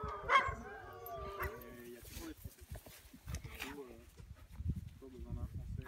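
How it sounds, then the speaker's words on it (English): A husky on a hike in Norway yips and whimpers in short high bursts near the listener, mixed with people talking over it. "Beautiful dog."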